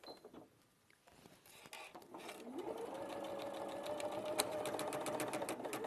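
A sewing machine runs steadily, stitching a quarter-inch seam after a few seconds of quieter handling noises, its motor hum rising and holding at an even pitch through the rest of the stretch.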